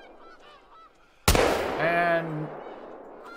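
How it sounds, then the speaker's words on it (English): Geese honk in a flurry overhead in the hunting game theHunter: Call of the Wild, right after a sharp loud gunshot, with a voice briefly audible before the calls fade. "Some more geese up above us here."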